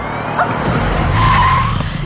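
A vehicle brakes suddenly at a speed breaker, its tires squealing in a drawn-out skid that peaks midway through a loud, rumbling stretch of road noise.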